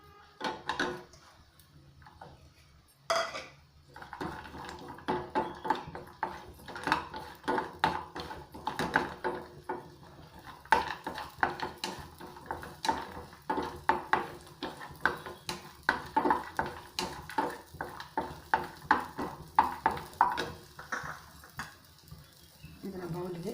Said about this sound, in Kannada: ತುಪ್ಪಕ್ಕೆ ಈ ಡ್ರೈ ಫ್ರೂಟ್ಸ್ ಹಾಕಿ ಹುರಿಬೇಕು.